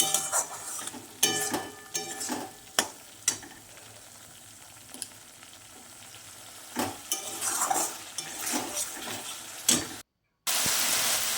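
Spices for a winter potato curry fry and get stirred in a pan with a little added water, giving a steady sizzle broken by sharp spoon scrapes and clinks against the metal, close and fairly quiet, with no talking.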